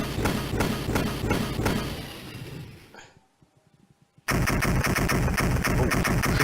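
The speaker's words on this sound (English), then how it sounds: "Explosions!" In the Godzilla Domination video game, rapid booming explosions crackle in dense bursts, fade to near silence with a few faint taps, then slam back in at full, relentless intensity.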